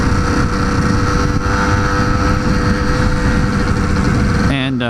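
A 1978 Suzuki TS100 two-stroke motorcycle engine idles steadily up close, a loud, constant buzzing drone that holds for the whole stretch before abruptly shifting near the end.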